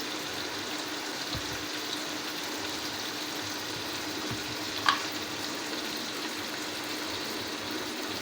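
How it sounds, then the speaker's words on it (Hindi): A soft, steady sizzle of chicken frying in a pan, with a faint clink partway through and no talking. "अब चिकन को मैं अच्छी तरह भूनूंगी"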